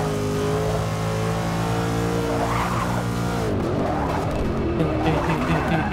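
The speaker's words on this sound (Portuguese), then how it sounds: "Eu reduzo para o primeiro, depois o carro tranca umas rodas" Race car in Forza Motorsport 6 locking its wheels under braking: a loud engine drone drops in pitch as the car slows, then tires skid and squeal in rising and falling sweeps, with no talking.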